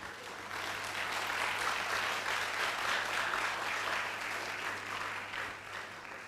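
At a nursing profession induction ceremony, a large audience applauds the faculty dean; clapping swells in after a brief quiet start, stays full and even, then eases slightly toward the close over a low hum.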